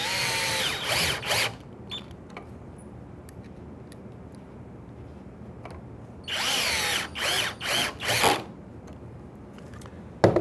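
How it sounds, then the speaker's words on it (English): A power driver sinks pocket screws into a wooden joint in two loud whirring bursts, the first about a second long and the second a longer stuttering run, with quiet pauses between, close up and alone. "And then with another driver, drive the screws home."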